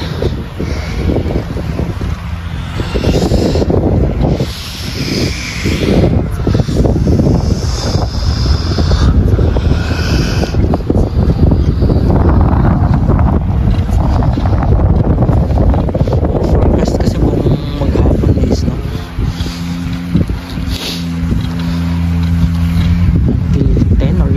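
Strong wind roars and buffets the microphone continuously during snowfall in Canada, loud and rumbling, with gusts swelling and easing.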